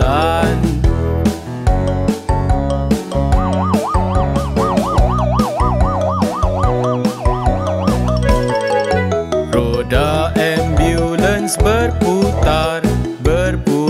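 An ambulance siren wails in a looping, up-and-down pattern through a bouncy Malay-language children's nursery song, the siren blended with drums, bells and the melody.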